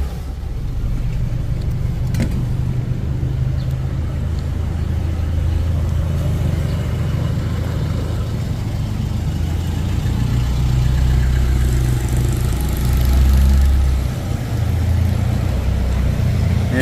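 A jeepney ride in the Philippines, with a steady low engine rumble and road noise heard from inside the vehicle for the whole stretch, plus a brief knock early on and a slight swell later.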